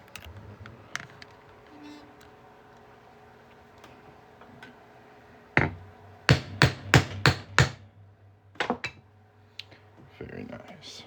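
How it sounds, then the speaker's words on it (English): A hammer drives a center punch through a Pennsylvania quarter coin, giving a quick run of about six sharp, close metallic strikes. A voice talks before and after the blows. "Just going to hammer that right on through."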